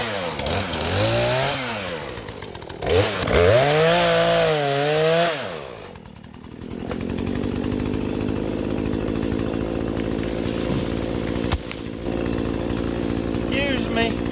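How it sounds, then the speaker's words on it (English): A chainsaw runs steadily at a rural site with an abandoned 1971 Dodge D100 truck, used to cut down trees; the first seconds carry loud, wavering engine revving, then it settles into a continuous droning whine for the rest of the clip. "let me get the chainsaw out."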